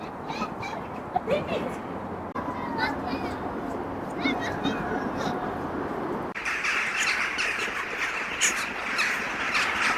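Crows caw and squawk intermittently in a snowy botanical garden, their harsh calls rising over a busy outdoor background.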